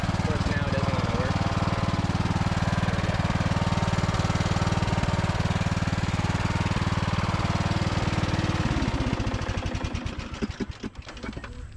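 A Craftsman riding lawn mower engine runs loudly and steadily up close, then sputters and falters toward the end as its rhythm breaks up and the sound drops.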